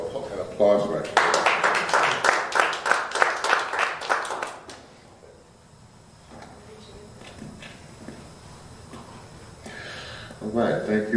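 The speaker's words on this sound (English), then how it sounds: "You can give him an applause right there." Audience applause at an evening lecture, a burst of clapping for about four seconds near the start, then fading, with speech heard around it.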